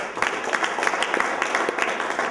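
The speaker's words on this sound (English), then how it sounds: "big round of applause for Urban Dove" An audience at a boxing press conference in Manhattan claps steadily, a brief dense patter of many hands at moderate distance.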